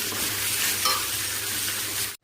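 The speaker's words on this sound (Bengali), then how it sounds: "পটলটা রান্না করার জন্য আগে পটলটা কেটে ভাজতে দিয়ে দিলাম।" Cut pointed gourd pieces frying in hot oil in a pan, a loud, dense, continuous sizzle close by with faint scraping of stirring, alone without voices.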